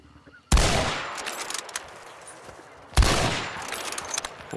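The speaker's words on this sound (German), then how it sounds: "Komisch, warum das Fenster beim ersten Schuss nicht kaputt ging." Two loud, sharp gunshot blasts in the game Hunt: Showdown, about two and a half seconds apart, each ringing out with a long echoing tail, with faint clicks and clatter between them.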